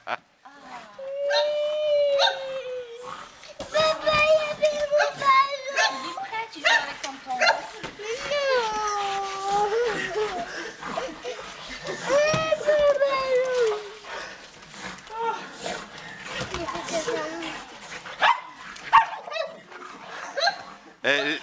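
Dogs barking, whimpering and howling in a lively, overlapping stretch, with voices talking at times throughout.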